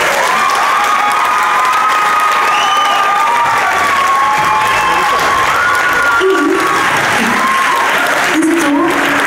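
Concert audience at a show in Mozirje applauds and cheers loudly and continuously, with a voice talking over the crowd.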